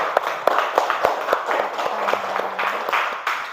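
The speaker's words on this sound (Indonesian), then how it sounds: "Ayo tepuk tangan dulu untuk semuanya." Children in a classroom clap together in scattered, uneven bursts at close range, with a brief voice sounding partway through.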